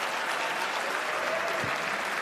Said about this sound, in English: This deserves a massive round of applause.